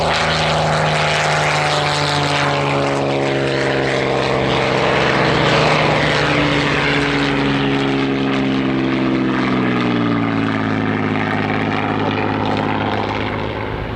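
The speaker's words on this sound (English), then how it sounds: "LF363, the Hurricane, built in Langley near Slough, first flown in January 1944" Hawker Hurricane LF363, a World War II propeller fighter built in 1944, flying at an airshow, its loud piston engine droning steadily and shifting in pitch as it passes overhead.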